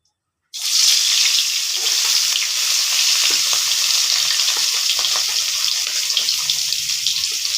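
Salted fish pieces dropped into hot oil, a sudden loud sizzle erupting after a moment of silence and then hissing and crackling steadily close up until the end.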